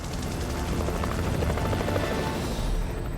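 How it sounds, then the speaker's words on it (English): A rescue helicopter flying overhead, its rotor and engine making a steady, loud, broadband drone throughout, with no voices. "Hidden by the trees, Larry and Tommy remain invisible to the helicopter crew above"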